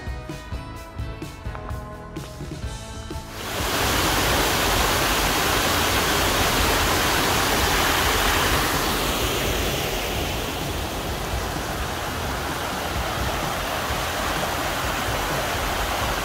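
A mountain stream rushes through a forest, a loud, dense broadband roar of flowing water that swells in after a quieter opening and then runs continuously, close by and with no voices.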